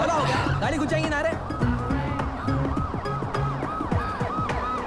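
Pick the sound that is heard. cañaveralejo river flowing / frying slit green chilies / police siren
police siren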